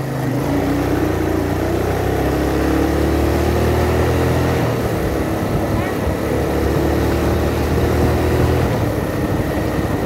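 Motorcycle ridden through a residential neighborhood, a steady engine drone with a shifting pitch under heavy wind rush, loud and close for the whole stretch.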